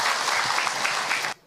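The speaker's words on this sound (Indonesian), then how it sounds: "Tepuk tangan buat Mbak yang" An audience at a talk claps for a woman who asked a question, a short burst of dense, fairly loud applause that cuts off abruptly near the end.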